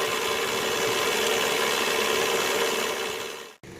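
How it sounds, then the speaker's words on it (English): 2002 Chevrolet Cavalier engine idling in gear with a transmission cooler fitted, a steady close mechanical hum that holds even and then cuts off briefly near the end. "have it idling in gear, and that should help it to warm up the transmission a little faster"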